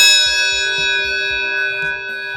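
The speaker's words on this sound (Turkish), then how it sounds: "Vatikan çanı taktığımızda daha uzun süre çalmıyorum." A modified Hella car horn fitted with a Vatican bell gives off a loud, sustained metallic ringing tone with many overtones. It holds steady for a couple of seconds, then eases slightly at the end.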